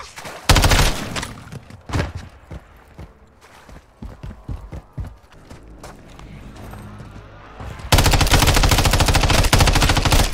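Video game gunfire in Call of Duty Modern Warfare 3 Zombies: rapid bursts and single loud shots crack sharply at close range, with irregular spacing before a sustained roaring barrage near the end.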